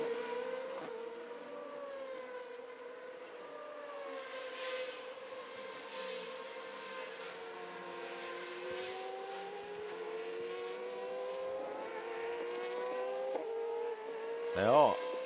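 Formula V8 3.5 race cars scream past at Jerez, their engines holding a steady high-pitched drone with a rising note of acceleration, while a commentator talks over the racing.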